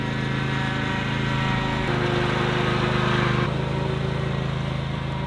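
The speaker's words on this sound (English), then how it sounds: "the belt on our lawnmower snowblower thing kind of broke. Yeah, we're just pushing the snow with it." A small lawnmower-style snowblower engine with a broken belt, used only to push snow, runs steadily and close by, a continuous buzzing drone that shifts slightly in pitch partway through, with no talk.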